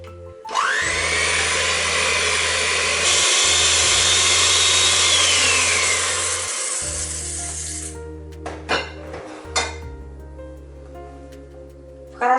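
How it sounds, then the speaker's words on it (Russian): Electric mixer whipping eggs with sugar and vanilla sugar into a fluffy foam: a loud, steady motor whir with a rising high whine for several seconds, then quieter, easing off into a few short bursts. "Яично-сахарную смесь взбиваю в пышную пену."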